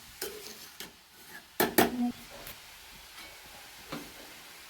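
Grated carrot stirred and sautéed in ghee in a pan for carrot halwa: sparse clinks and scrapes of a spoon against the pan, with a soft, faint sizzle underneath.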